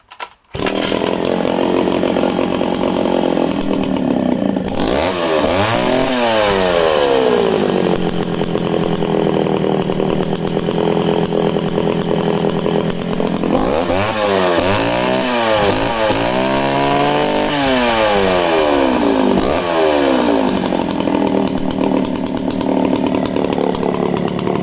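An Echo CS-60S chainsaw with a carburetor due for cleaning runs loud and close, holding a steady high whine, bogging and revving in long sweeps as it cuts, then idling between cuts.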